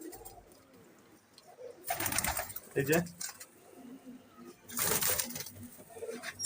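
Pigeons coo in soft low bursts near a coop, with louder fluttering or rustling noise between calls and a person speaking briefly.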